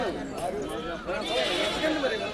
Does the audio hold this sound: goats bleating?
yes